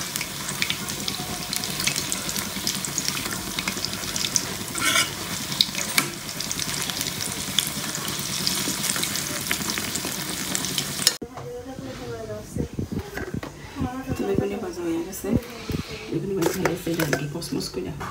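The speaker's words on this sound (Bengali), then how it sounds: "এটা বেসন দিয়ে তেল দিয়ে বেগুন ভাজা" Eggplant slices coated in gram-flour batter frying in hot oil, a dense steady sizzle that later drops to quieter crackling with stirring and occasional water noise, while people talk over it.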